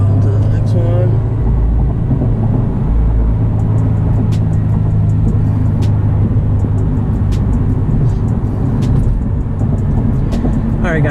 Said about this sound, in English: It's a lot of traffic.